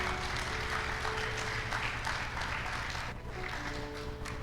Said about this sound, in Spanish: Sí, aplaudan.